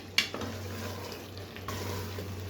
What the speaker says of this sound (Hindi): अब हम यहाँ पे अच्छे से भुनाई करेंगे 8 से 10 मिनट